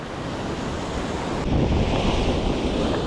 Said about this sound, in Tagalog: Lalaki lang yung alon